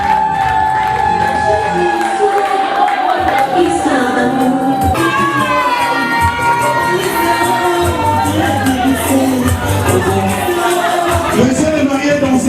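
At a French town hall wedding, guests cheer and whoop for the bride and groom in a loud, continuous crowd roar, with shouts and voices mixed throughout.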